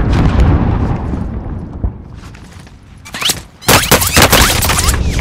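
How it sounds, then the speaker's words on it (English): Heavy gunfire and explosions in the Warzone battle royale game, a loud continuous barrage that eases in the middle and then returns as sharp, close bursts of shots. "I'm taking fire!"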